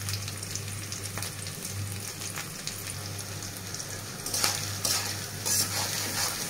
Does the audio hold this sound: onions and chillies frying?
yes